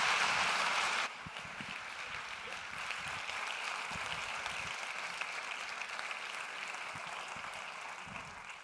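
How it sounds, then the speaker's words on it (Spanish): Applause from an audience at a talk on the future of transport, welcoming innovation speaker Iván Rivera to the stage; a dense burst of clapping in the first second gives way to a steady, softer patter of hands. "Quiero que le recibáis con un enorme aplauso."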